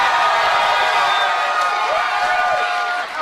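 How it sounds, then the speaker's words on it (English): A large crowd at a live game-show event cheers and whoops for the day's winner, a dense, sustained roar with scattered shouts. "And can you give today's winner a massive cheer?"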